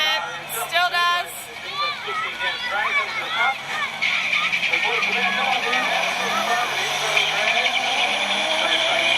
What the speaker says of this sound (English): This is just one of the circuit racing days with the Blast Corp car.